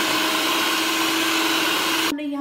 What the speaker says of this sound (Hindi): इसको अच्छे तरीके के साथ हैंड बीटर के साथ क्या है बीटते जाएंगे